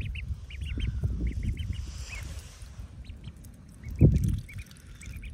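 Ducks quack repeatedly in short bursts outdoors at a moderate distance over a low rumbling background, with a louder thump partway through.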